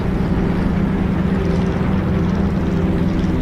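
Aircraft engine of the Xishan droning steadily and loudly throughout, a dense continuous roar with no break.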